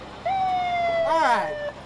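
A siren from a vehicle in a Memorial Day parade, a single steady tone lasting over a second, overlapped by a voice.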